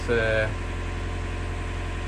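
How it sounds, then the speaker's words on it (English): A widebeam narrowboat's diesel engine idles on a canal with a steady low throbbing rumble, close by, with a brief burst of voice at the start. "I hope you can hear me above the noise of the engine"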